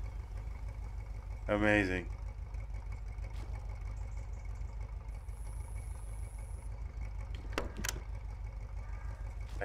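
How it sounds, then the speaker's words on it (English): Turbo diesel truck in the video game SnowRunner idling with a steady low engine drone throughout, while a voice speaks briefly early on and a few short clicks sound near the end. "you can hear the turbo spooling"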